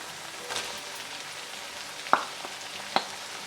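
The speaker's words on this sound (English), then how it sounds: "Now I'll add in my chopped tomatoes." Chopped tomatoes hit hot ghee in a pan, giving a soft continuous sizzle with a couple of sharp pops and clinks, close and moderately quiet, with no voices.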